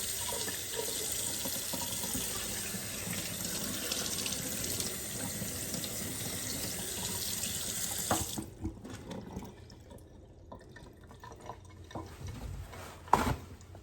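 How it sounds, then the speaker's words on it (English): Cold tap water runs steadily into a kitchen sink while a Boston butt pork roast is rinsed, a constant close hiss that breaks off midway into scattered splashes, drips and handling clatter. "we're going to rinse it off in cold water"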